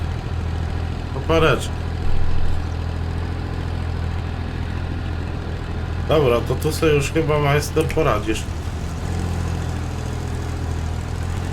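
A tractor (a '60') idles during potato harvesting in a field, its low steady engine rumble running under two bursts of conversation between people nearby.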